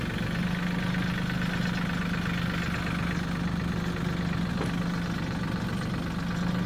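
A tractor engine idles with a steady low rumble and constant mechanical drone throughout, no voices over it.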